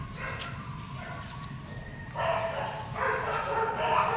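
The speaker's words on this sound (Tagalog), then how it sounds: "Grabe ingay ng mga aso nag-aalulong." Several dogs howl and yip at a distance over a constant background hum, their cries swelling louder partway through.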